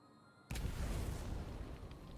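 A grenade detonates in The Division 2, opening with a sudden loud blast followed by a sustained rumbling roar that fills the rest of the moment without fading much.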